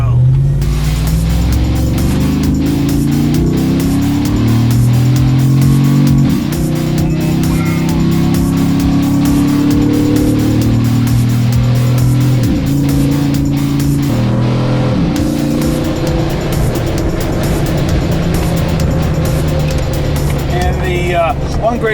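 A 2014 Jeep JKU Sport with a Hemi V8 runs and drives, its engine note rising and falling through gear changes with a steady low rumble throughout. A person talks over the engine for much of the drive.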